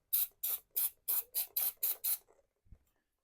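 Brake cleaner sprayed onto parts of a 1990 Harley-Davidson Sportster 883 during a restoration, heard as eight short, sharp hissing bursts in quick even rhythm, then a couple of faint weak puffs and a small knock.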